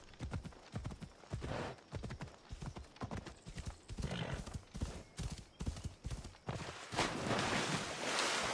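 A horse gallops in Assassin's Creed Odyssey, with fast, rhythmic hoofbeats pounding close and loud throughout, and a broader rushing noise swelling near the end.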